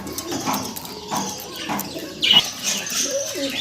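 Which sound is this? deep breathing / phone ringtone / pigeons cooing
pigeons cooing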